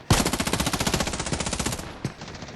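Automatic gunfire in the ScarFall 2.0 battle royale game, a loud, rapid, even burst of shots lasting about two seconds, then one final shot, close and alone with no talk.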